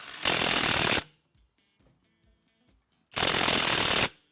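A 1,200 Nm cordless impact wrench hammers loudly for about a second, falls silent with faint clicks, then rattles again in a second full burst before cutting off abruptly.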